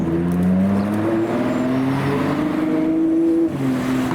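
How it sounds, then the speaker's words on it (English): A Porsche 911 pulls in as part of a hypercar convoy, its engine note rising and shifting in a steady drone over about four seconds. It sounds close and fairly loud, then eases off toward the end. "Next to pull in, we've got the Porsche 911."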